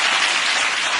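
A dense, steady roar of studio audience applause on a TV chat show, loud and continuous throughout, with no voices over it.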